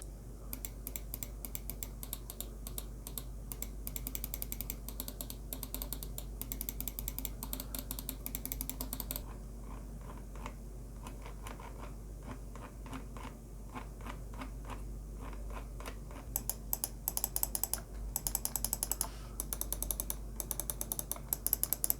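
Rapid clicks of a Hator gaming mouse's buttons go on for a long stretch, fast rattling bursts with brief pauses, close and moderately loud, with no voices.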